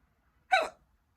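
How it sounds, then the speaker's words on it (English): A single sharp hiccup, brief and close, bursting out of near silence. "I've got the hiccups."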